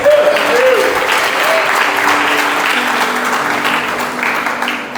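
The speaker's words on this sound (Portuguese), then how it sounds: "aquela linda salva de palmas para Jesus" A church congregation at a conference gives loud, sustained applause, with many hands clapping together and voices calling out beneath it before it eases slightly at the end.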